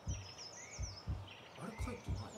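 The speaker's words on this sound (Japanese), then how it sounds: "鳥の声がするすっごい鳥の声する" Birds chirping inside a video game, a few bright high tweets and calls drifting over a soft ambient background with low repeated thumps, moderately quiet.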